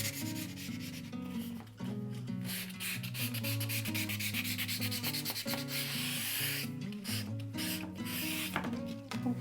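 Steady, continuous rubbing and rasping of sandpaper on the edges of a wooden dollhouse room built from a 100-yen-shop frame, with brief pauses, while a tonal hum or music runs underneath throughout.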